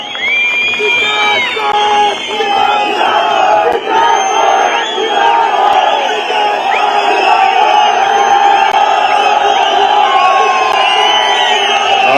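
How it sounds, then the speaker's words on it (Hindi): Large outdoor crowd on the Ridge in Shimla cheering and shouting loudly and continuously in welcome of minister Vikramaditya Singh, a dense roar of many voices with whoops throughout. "स्वागत संबोधन के लिए जोरदार तालियों से स्वागत करें।"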